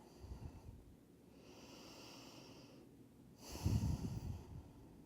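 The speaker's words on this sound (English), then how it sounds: "Take a few more deep breaths." Slow deep breaths during a yoga stretch for sciatica and lower back pain, a soft inhale followed by a stronger, airy exhale close to the microphone in an otherwise quiet room.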